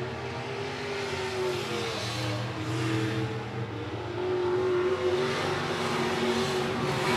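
Sport modified race cars roar around the I-76 Speedway oval in a close battle for position, a steady, loud wall of engine noise that swells toward the end with no clear pauses.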